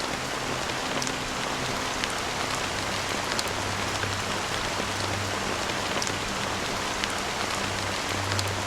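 Rain falls steadily in a Honkai: Star Rail cutscene set in Penacony, a dense, even hiss of drops on hard surfaces with faint scattered patters and no voices over it.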